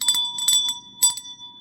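A small notification bell dings in a quick series of bright metallic rings: a double strike, a second cluster, then a final ring, each with a clear sustained tone and a lingering tail.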